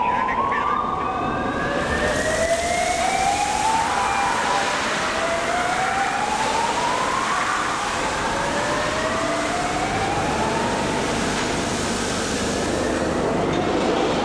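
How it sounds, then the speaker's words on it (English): A car tipper at a rail unloading terminal tips rail cars over two at a time, heard as a continuous loud industrial roar with repeated rising whining tones sweeping upward like a siren and no speech. "In short intervals, 2 cars at a time are being turned over."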